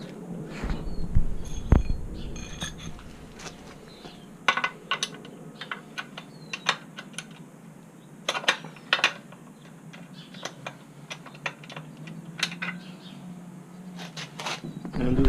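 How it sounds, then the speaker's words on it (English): A wrench tightens the lock nut on a motorcycle chain adjuster, producing scattered sharp metallic clicks and ratcheting ticks in irregular bursts, close up and fairly quiet, with no talking. "So now I'm gonna tighten the lock nut."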